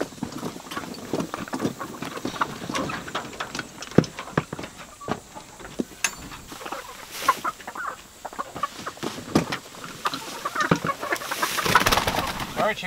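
Chickens cluck and squawk inside a coop struck by a skunk, with scattered sharp bird calls and scuffling throughout, fairly close, alongside occasional light knocking sounds.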